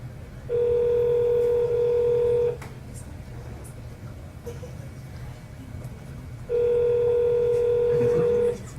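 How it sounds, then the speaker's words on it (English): Two long, steady telephone tones sound while placing a call to leave a voicemail, each lasting about two seconds with a quiet pause between them, over a low background hum. "we'll leave a quick voicemail for Mr. John Green"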